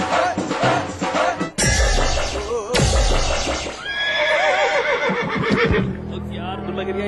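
A horse whinnies loudly within a busy Indian TV advert for Shree Jung Rodhak rust protection, with voices and music running throughout and the neigh rising clearly above them partway through.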